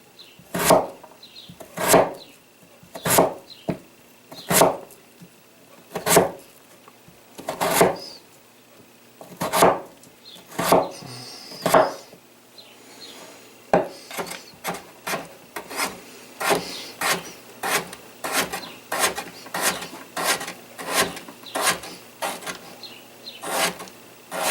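Sharp knife slicing potatoes on a board for Hungarian potato pasta: steady crisp chops, one after another, close and fairly loud, with a slightly quicker run of cuts in the second half.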